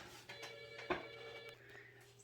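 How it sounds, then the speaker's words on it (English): A telephone rings quietly in a room, a soft tonal ring running for about two seconds with a slightly brighter burst near the middle, heard alone without talk. "And Princess, the telephone's ringing."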